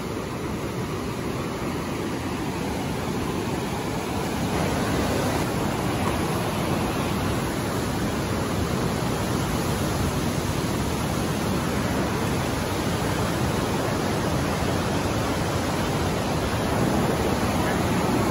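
Continuous, loud, broadband roar of the Niagara River's white water rapids churning through the deep gorge, heard up close as an unbroken wash of noise with no pauses and no talking.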